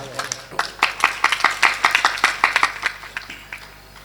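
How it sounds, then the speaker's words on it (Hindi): Audience clapping at a Hindi poetry recital as a lyricist is welcomed, a brisk run of loud, distinct claps that thins out toward the end, with some background voices. "आपकी तालियां कमजोर हैं"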